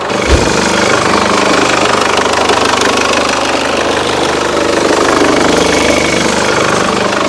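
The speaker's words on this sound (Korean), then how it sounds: "일단 디젤 차량 특유 엔진 소리 정상적인 소리 잘 들려주고 있고요" A Chevrolet Cruze diesel car engine idles loudly up close, a steady rough rumble with a constant knocking clatter and no pauses.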